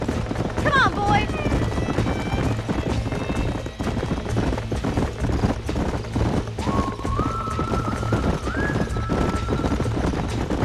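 Horses in the Red Dead Redemption video game, with a whinny and neighs near the start over steady hoofbeat clip-clop and rumbling ambient noise. A voice speaks partway through.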